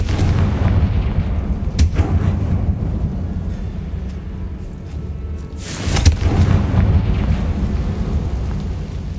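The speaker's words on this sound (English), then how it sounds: "Confringo! Defender! Confringo!" Explosive spell blasts from the Hogwarts Legacy video game boom over a steady rumbling game backdrop, with two sharp bangs standing out a few seconds apart.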